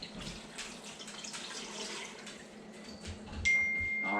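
Water pours into an Instant Pot while a venison roast is being cooked, a faint steady splashing and trickling with a brief rising fill tone near the end, and no talk.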